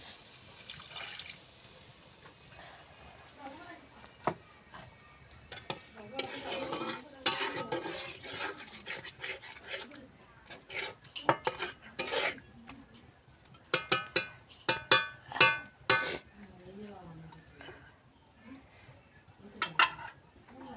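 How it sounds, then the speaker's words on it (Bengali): Spice masala being stirred and fried with a little water in a pan for a river fish curry, with scraping and clinking of a utensil against the pan in irregular bursts, close by and moderately loud. "এবার আমি অল্প জল দিয়ে মশলাটা কষিয়ে নেব।"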